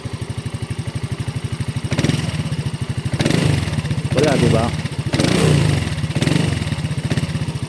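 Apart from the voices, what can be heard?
motorcycle engine starting and running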